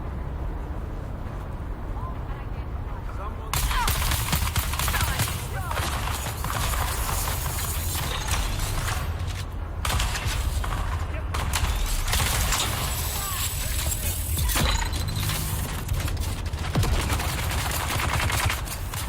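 Dense, rapid gunfire crackles and bursts through a loud, steady soundscape in the video game Dune Awakening, with sharp shots clustering toward the middle.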